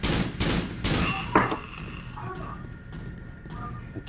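Rapid gunfire from the Cry of Fear video game during a fight with the butcher boss, several loud shots in quick succession early on, followed by quieter mechanical clicks and game ambience.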